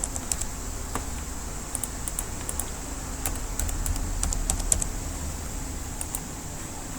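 Keys tapped on a computer keyboard while entering a password during a CentOS 7 minimal server install, scattered quick clicks in short bursts over a steady low hum, no talking.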